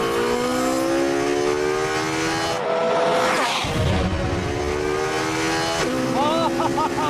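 Race car engine at full speed on the Abu Dhabi circuit, a loud continuous high-revving whine climbing in pitch, dropping briefly as it shifts or passes, then rising again, with excited speech over it.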